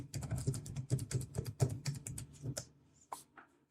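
Rapid typing on a computer keyboard, a close, quiet flurry of clicking keystrokes that slows and thins into a few last taps.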